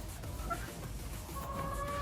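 SBR hens on a gamefarm give a few soft, scattered clucks and calls against faint outdoor background noise, brief and fairly quiet.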